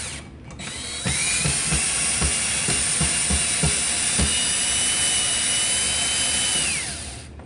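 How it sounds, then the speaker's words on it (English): A power drill drives long screws into a hugger ceiling fan mount with one sustained, loud whir, opening with a run of rapid clicks and then winding down at the end. "I'm installing a lot longer screws than what it requires or what came with it."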